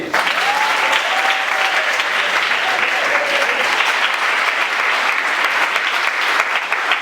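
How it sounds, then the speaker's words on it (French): Sustained applause from a crowd, steady and fairly loud throughout, with a few faint whistles near the start. "Applaudissez l'équipe."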